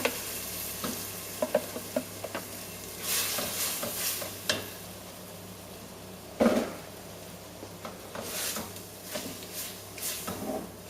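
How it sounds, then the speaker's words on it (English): Two tins of chopped tomatoes go into a pan of softened onion and anchovies for a Sicilian seafood chowder, with a steady sizzle, scattered scraping stirs and a few louder clatters and splashes, no talking. "So now we'll add in the 2 tins of chopped tomatoes."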